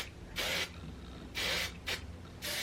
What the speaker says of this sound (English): I'm gonna spray a flexible hairspray before I let them cool